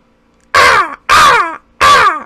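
Human voice imitating a crow with three loud, harsh caws in an even rhythm, each about half a second long, close up and separated by short silences.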